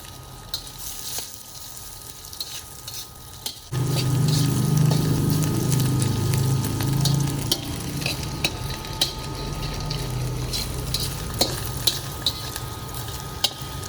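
Chopped onion hits hot oil in a pan for salted egg and Chinese sausage fried rice, with a sudden loud sizzle after a quieter start, then steady frying and occasional stirring clicks, no talking.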